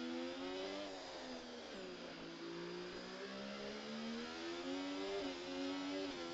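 A Formula 1 car accelerates out of a corner in a higher gear, its engine a loud sustained whine that dips and then climbs steadily in pitch, with no talking.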